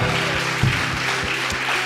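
Congregation applauding during a church service, a steady wash of hand claps filling the room for a couple of seconds with no voices over it.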